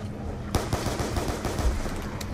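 Rapid gunfire in Black Ops 2 Zombies, loud bursts of shots cracking over a dense, noisy game mix, close and continuous with no talk.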